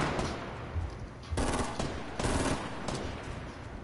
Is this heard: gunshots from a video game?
yes